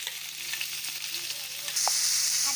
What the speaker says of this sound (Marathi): आता टाकलेलं आहे ओनियन आणि कॅप्सिकम टाकलेलं आहे